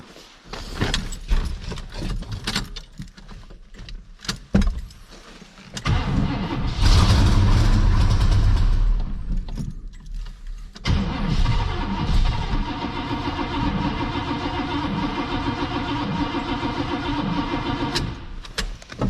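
A cranking El Camino engine catches and settles into a steady running idle, close and moderately loud, after some starts and knocks; the engine runs on for the rest of the stretch without any talking.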